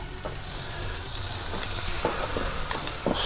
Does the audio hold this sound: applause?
no